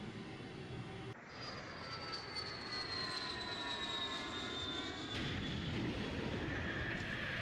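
An airplane in an animated game drones steadily, a continuous engine roar with a slowly falling whine over several seconds, no voices.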